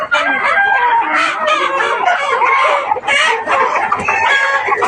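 A prized fighting rooster of a good breed on a gamecock farm crows loudly and close, with overlapping crows and clucks from other fowl filling the whole stretch.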